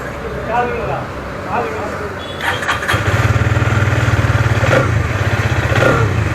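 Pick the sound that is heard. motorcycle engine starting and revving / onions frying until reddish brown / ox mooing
motorcycle engine starting and revving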